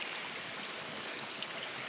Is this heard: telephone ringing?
no